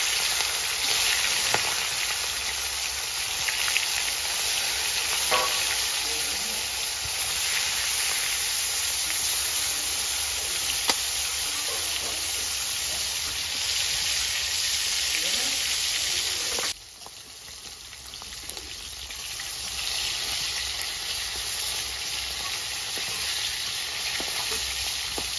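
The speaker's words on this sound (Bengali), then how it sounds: "গরম হয়ে গেছে, আমি এর মাছগুলো ভেজে নেব" Snakehead fish pieces frying in hot oil in a karahi, a loud, steady sizzle and hiss that runs throughout with occasional faint pops, dropping slightly in level partway through.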